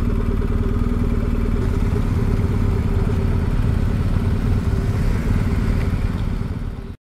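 A motorcycle engine drones steadily and loudly on a foggy mountain road in Norway, with a constant rumbling note that fades out at the very end.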